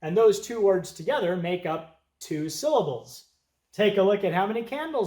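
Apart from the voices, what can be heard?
No distinct noise like a dog, phone or traffic.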